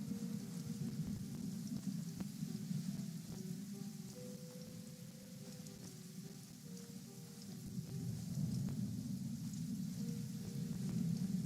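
Heavy downpour with thunder, a dense steady rain hiss spattering on surfaces under deep rolling rumbles that swell and fade, with a faint melodic tone running through the middle.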